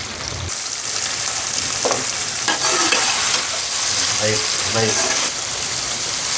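Chicken and cream frying in a karahi for malai karahi, a loud continuous sizzle with spatula stirring and scraping, close up, no voices.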